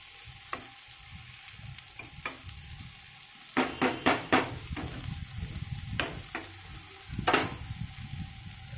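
Okra sizzles steadily in oil in a pan with a few sharp clacks of stirring, the frying loud and close with no talking.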